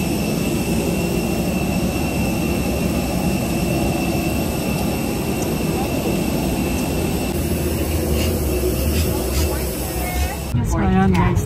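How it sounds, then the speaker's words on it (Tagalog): Inside an airplane cabin, the jet engines produce a steady, loud, even drone with a constant hum, and a voice speaks over it. "nandito na ako sa aeroplano"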